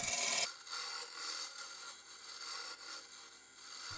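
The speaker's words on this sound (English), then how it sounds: "I continued to use the roughing gouge to turn the handle down to a size that was good for my" A roughing gouge cuts a spinning wooden shoehorn handle on a lathe, a soft continuous scraping hiss that swells and fades as the tool is moved along the wood, quiet and close.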